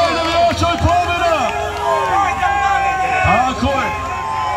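A crowd of fans at a bullfight cheering for the bull Rambo, loud excited shouting and whoops over a nearby voice on a public address, with bursts of noise rising and falling.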